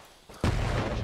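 A frag grenade blows up in the World War II shooter Hell Let Loose during a Normandy hedgerow fight, giving one sudden loud boom that rolls into a sustained rumbling roar.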